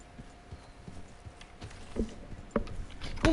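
Horses in Red Dead Redemption 2 galloping, a rhythmic clip-clop of hooves that grows louder and nearer toward the end, with a brief neigh and no talking.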